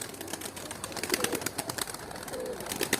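Soft, low pigeon coos murmur beneath a crackle of rustling and fluttering, several birds close by with no talking.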